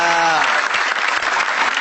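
Loud, dense applause from a comedy show audience at a stand-up battle event, with a brief voice trailing over the opening moment before the clapping fills the whole stretch.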